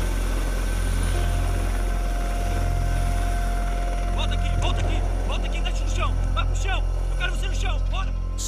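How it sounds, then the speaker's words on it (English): Federal police helicopter flying on a smuggling patrol over the Brazil–Ecuador border region, its steady rotor and engine drone filling the whole stretch, loud and continuous, with faint speech-like sounds mixed in over the noise. "the unit uses federal police helicopters"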